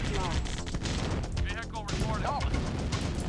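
Units attacking an enemy harvester in the video game Command & Conquer produce dense, continuous gunfire and explosions. Several bursts overlap throughout with no break.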